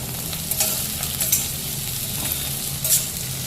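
Onions, chilies, ginger and garlic fry in a pan for paneer angara, giving a steady close sizzle broken by a few crisp stirring scrapes and small pops, with no one talking.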